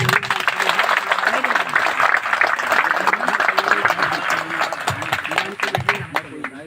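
Audience at a Fatehpur gathering of fraud victims applauding to welcome the district officer, dense continuous clapping from many hands close by, with a voice talking over it.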